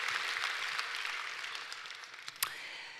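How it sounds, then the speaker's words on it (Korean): Church congregation applauding at a Christmas Sunday thanksgiving service, a broad sustained patter of many hands that slowly fades, with a louder sharp clap near the end. "우리 주님 앞에 다시 한번 영광의 박수를 올려드립니다."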